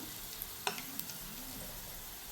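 Peanuts fry quietly in a pan, a soft continuous sizzle broken by a few sharp clinks and scrapes as a spoon stirs them.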